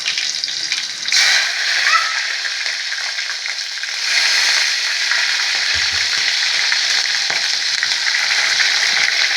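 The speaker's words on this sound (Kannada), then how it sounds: "ಹಸಿಮೆಣಸಿನ್ಕಾಯಿ ಈ ಥರ ಫ್ರೈ ಮಾಡಬೇಕು ಫ್ರೆಂಡ್ಸ್." Green chillies sizzling in hot oil with crushed garlic for tomato gojju, a loud continuous frying hiss close up with occasional crackles and a faint clink, no voices.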